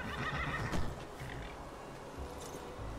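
A horse in a video game whinnies loudly at the start, followed by softer snorting and a few hoof sounds, with no talking.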